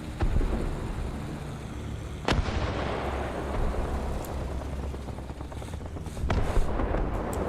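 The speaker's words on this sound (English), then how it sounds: "I can't tell if that was artillery or something else." Artillery fire in the War Thunder video game: several sharp, heavy blasts ring out over a continuous low engine and rotor drone, some close and loud, others more distant.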